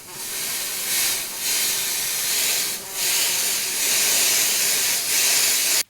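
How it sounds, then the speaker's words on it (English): Sustained hissing of an aerosol bug spray, swelling in a few short pulses before cutting off abruptly. "What do you think bug spray's for?"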